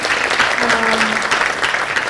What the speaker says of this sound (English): Please let's hear a round of applause to them.